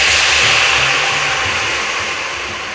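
Loud, steady whirring roar of an electric kitchen grinder dry grinding roasted tomatoes into powder, no oil added, running continuously close up.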